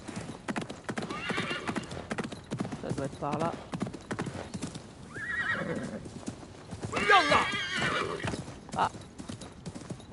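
A horse in the video game Assassin's Creed Mirage gallops with rapid, steady hoofbeats and lets out a whinny, while a person talks casually over the gameplay.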